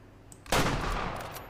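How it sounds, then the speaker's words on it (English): A hunting rifle fires at a bear in the Way of the Hunter video game: one loud, close shot with a sharp crack and a long rolling echo that fades slowly. "I hope that was a good enough shot."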